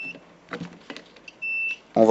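A multimeter set to ohmmeter mode gives a steady continuity beep across two relay contact terminals on an 8-relay board, sounding as a sustained tone of about a third of a second between bursts of speech.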